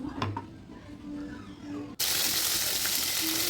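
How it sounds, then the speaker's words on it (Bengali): Fish pieces, katla for a fish curry, frying in a pan with a steady bright sizzle that starts abruptly and fills the second half, after quieter kitchen clatter and a voice. "এদিকে মাছ ভাজার একটা পিস হয়ে গেছে, আমি অন্য একটা পিস উল্টে দিচ্ছি"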